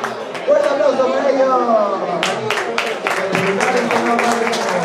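Applause for the team at a regional football match, rising beneath a voice on a public address system; the clapping grows denser toward the end while the voice continues over it.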